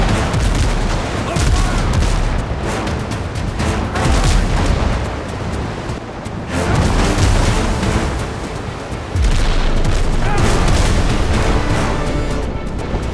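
Ship cannons in the naval video game Windrose fire in dense, rolling volleys of booms, loud and continuous with brief lulls between barrages, no talking.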